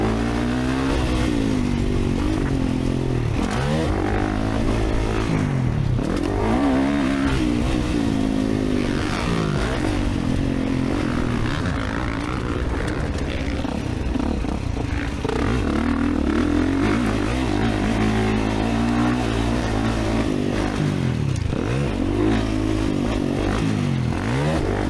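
A motocross bike racing at Albany MX, its engine close and loud throughout, revving up and dropping back repeatedly as the rider works the throttle over the track, with clattering from the bike and no talk.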